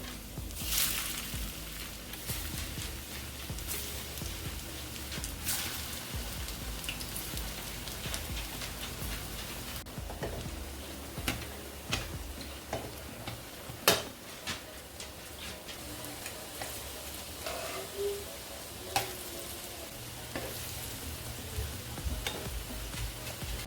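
Steady sizzling and crackling of plantain slices frying in hot oil for tostones, with scattered pops and ticks throughout, moderately quiet and continuous.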